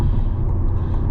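Chevrolet C8 Corvette exhaust heard from inside while driving in Sport+ mode, a brief, loud, low engine drone with road rumble.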